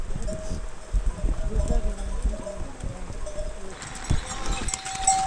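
Horses plod along a mountain trekking path to Tungnath in Chopta, Uttarakhand. Their hooves give soft, irregular clip-clop steps at moderate distance over outdoor ambience, with a brief high whistle-like tone near the end.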